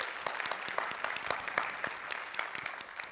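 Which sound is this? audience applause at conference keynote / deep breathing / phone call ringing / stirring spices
audience applause at conference keynote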